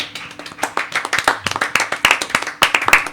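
Audience clapping after a poem recital in French, a lively burst of many hands applauding with uneven, rapid claps close by and no talk.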